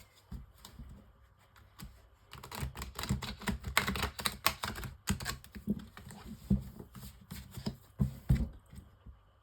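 A tarot deck being shuffled and handled, a dense run of close, soft, rapid card clicks and flutters that builds and continues with little pause, with no talking.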